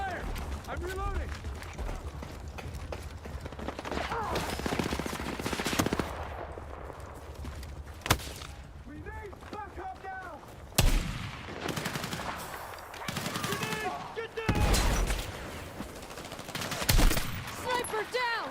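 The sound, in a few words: gunfire in the video game Battlefield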